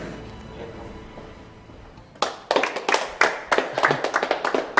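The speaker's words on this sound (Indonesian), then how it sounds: "nggak usah tepuk tangan" Hand clapping in an Indonesian TV drama scene: after two seconds of quiet room tone, a few people start clapping, sharp distinct claps in an uneven rhythm that continue to the end.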